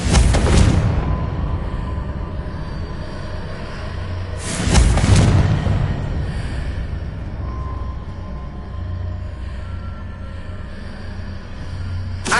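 A Confringo blasting spell explodes in a Hogwarts video game with a sharp boom at the start, then a second deep blast midway, each trailing off into a low rumbling decay.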